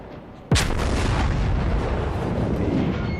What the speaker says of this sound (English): But Crudbasher is being shot up by a Fuso in the front and a Furataka in the rear.